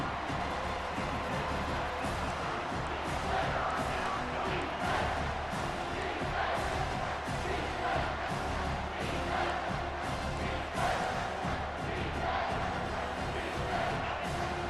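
Stadium crowd in EA Sports College Football 25 roars steadily during a big third-down defensive play, a dense continuous cheering wash with rhythmic pulses, mixed under game commentary.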